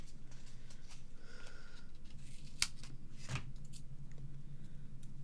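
Scissors snip paper while trimming pieces for a Stamperia Grand Hotel album, two quiet, brief cuts standing out over faint room hiss.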